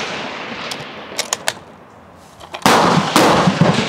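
A single 1893 trials Krag-Jorgensen rifle firing on an outdoor range, a sharp crack followed by a loud, lingering roll of echo, with a few faint knocks beforehand.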